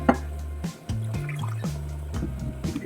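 Ground tomato water poured into a cooking masala for chicken gravy, a short splashing pour with dripping and liquid gurgles, close and distinct.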